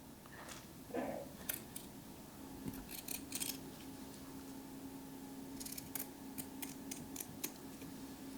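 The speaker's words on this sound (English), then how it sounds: "Those are good scissors." Small sewing-room scissors cut with a series of quiet, crisp snips and clicks spaced irregularly against a faint steady background hum.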